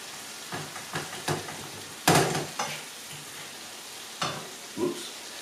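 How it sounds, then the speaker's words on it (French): A fork crushes tomatoes into softened courgettes in a hot pan for a stuffed-tomato filling, giving irregular wet squelching scrapes over a low sizzle, with one louder mash in the middle. "Je prends la fourchette et j'écrase un peu toutes ces tomates pour qu'elles rendent un peu plus de jus"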